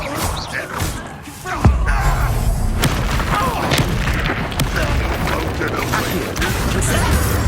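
An Expelliarmus spell cast during a Feldcroft battle in Hogwarts Legacy: a sharp booming thud strikes after a quieter opening, then busy clanking combat noise rumbles on loudly with scattered cracks and impacts.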